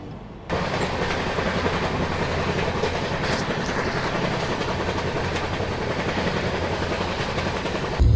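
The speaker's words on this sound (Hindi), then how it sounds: "और सामने से आ रही है रीवा आनंद विहार सुपरफास्ट एक्सप्रेस।" The Rewa–Anand Vihar Superfast Express, an Indian passenger train, rushes past close by with a loud, steady roar and rhythmic clatter of coaches over the rails, the noise starting abruptly and holding strong throughout.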